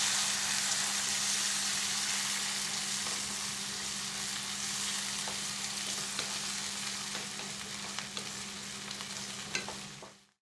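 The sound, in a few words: stirring chopped tomatoes cooking in a pan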